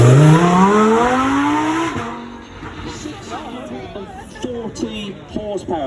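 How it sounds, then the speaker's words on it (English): A Lamborghini with a V10 engine revs loudly as it drives past at Beaulieu, its pitch climbing sharply before fading away, and people talk over the tail end. "Lamborghini. Moving from a V8 to a V10. Oh, it just sounds so good."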